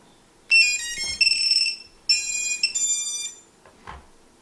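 A small HolyBro Kopis 1 racing drone beeps while binding its receiver, in two long bursts of bright, high electronic tones, with a few soft clicks and handling knocks between them.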